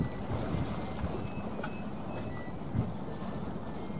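A Bến Tre trawler boat, heavily loaded with its catch, nears the dock at dawn as a steady low engine drone and water wash, with wind noise on the microphone, continue without a break.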